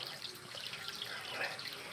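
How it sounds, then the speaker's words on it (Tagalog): Cold mountain spring water running freely from a tap near Mount Makiling in Laguna, Philippines, a faint, continuous splashing trickle with a soft, steady hiss and no break. "Running water. Running water."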